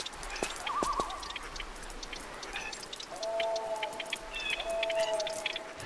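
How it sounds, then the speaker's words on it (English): Squeaking rats in the Tomb Raider Chronicles game's Gallows Tree level, thin high chirps and squeals scattered over a watery ambient background, with short tonal game sounds mixed in. "doesn't this sound like the rats from one of the older levels?"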